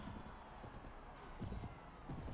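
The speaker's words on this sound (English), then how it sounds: "Oh yeah, I even got a horse." Horse hooves clip-clopping in the video game Mount & Blade Warband, soft muffled thuds in a loose rhythm under a low, faint background murmur.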